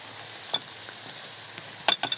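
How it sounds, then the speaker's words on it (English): A utensil scrapes and stirs pad Thai noodles and sauce around a pan, with a few distinct scraping strokes over a faint sizzle, close and quiet, with no talking. "And we want to stir all of that together."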